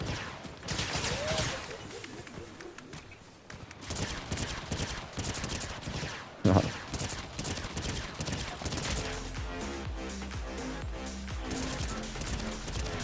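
Fortnite gunfire: rapid bursts of shots and automatic fire crackle repeatedly over game music and effects, with a sharp loud impact partway through and steady rhythmic firing later.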